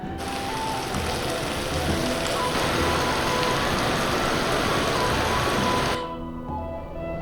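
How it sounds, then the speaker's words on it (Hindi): Steady, dense rain falling in the Himalayan hills around Dharamshala, a loud even hiss that stops abruptly near the end, leaving faint background sound. "बारिश ने हमारा स्वागत कर लिया।"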